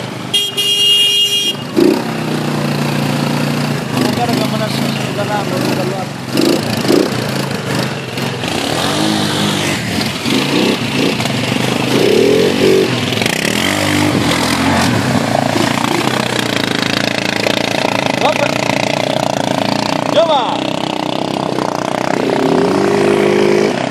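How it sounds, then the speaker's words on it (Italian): A Suzuki motorcycle engine starts and runs loudly and close by for a long stretch, its revs rising and falling. "Parte prima il motore e poi lo rotolo."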